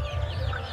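A Kadaknath hen clucks softly inside a chicken house, close by, over a low steady background hum.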